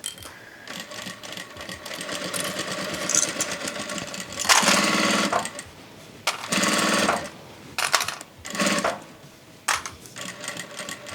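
Vevor industrial sewing machine stitching cotton fabric for a zippy clutch. It runs in several bursts of rapid, buzzing needle strokes separated by short pauses, close and fairly loud.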